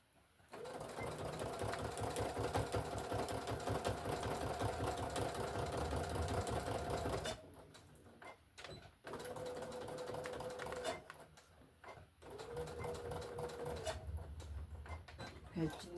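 A home sewing machine hums in a long steady run, then two shorter bursts separated by quiet gaps, a close rhythmic mechanical whir while a walker caddy is stitched.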